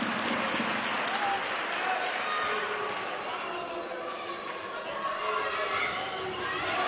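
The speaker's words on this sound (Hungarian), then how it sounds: "Szigora Melinda kapja a tapsot." Sustained crowd applause fills a large arena at a women's handball match, dense and steady throughout, with a commentator-like voice and ball bounces faintly mixed in.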